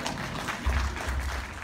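A brief burst of crowd applause at a Tamil language festival talk: steady, dense clapping from many listeners, fairly quiet and short.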